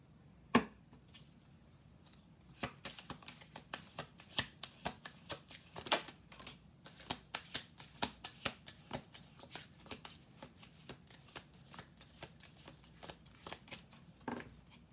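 Playing cards are shuffled quietly and close up, a run of soft riffling snaps and taps in quick irregular bursts, with a few sharper clicks scattered through.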